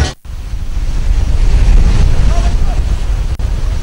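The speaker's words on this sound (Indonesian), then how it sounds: "Meski ombak lumayan besar" Large waves at sea off Kubutambahan, Bali, heard from a boat heading offshore for a Pakelem ceremony: loud, close roaring surf with heavy wind buffeting the microphone throughout.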